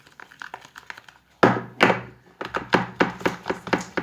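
A bowl of pearl-white slime being mixed knocks repeatedly against a table, giving hollow thunks: a few light taps, then a loud knock and a steady series of heavy knocks about three times a second, with no talking.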